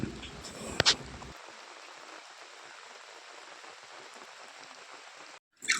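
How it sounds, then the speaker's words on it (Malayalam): Light rain falls in a steady, soft, even patter that stays faint throughout, with a brief knock at the start and a short noise at the very end. "ഒരു 10 മിനിറ്റ് കഴിഞ്ഞപ്പോൾ ഇതാ പിറകെ മഴ."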